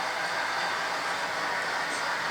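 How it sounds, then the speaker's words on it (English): A model train runs on a layout track with a steady, even whirring hiss and no breaks or voices over it. "I'm glad that I'm actually got to run a train around."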